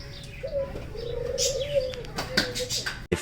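Pet pigeons or doves in a home give soft, drawn-out cooing calls near and fairly quiet, with brief chirps and a little wing flutter over a low room hum.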